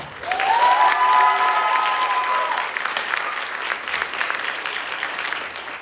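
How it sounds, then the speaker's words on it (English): Audience applause at a school theatre night of ten-minute plays, a steady wash of clapping that swells early and holds throughout, with a few cheers and a brief whistle-like tone near the start. "let's give them a round of applause right now."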